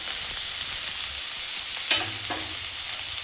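Mustard seeds, cumin and onion frying in hot oil for a North Karnataka mandakki oggarane, a low steady sizzle with a brief sharper crackle and stirring scrape midway, close and with no talk.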